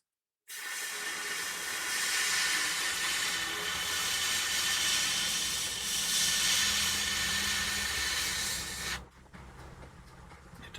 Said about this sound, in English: so I spray it on and it's nice and heavy so it can flow